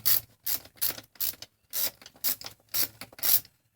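A socket ratchet with swivel and extension gives the final tightening to spark plugs on a 1997 Ford Mustang GT, a run of about eight quick, crisp clicking bursts in steady rhythm, close by and alone.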